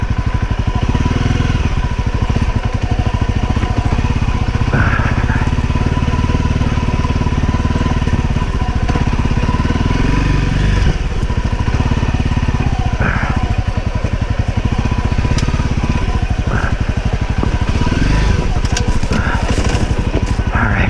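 A Honda CRF250L dirt bike on an off-road trail, its single-cylinder engine droning loudly and steadily throughout with rough revving surges, clattering over terrain close to the rider.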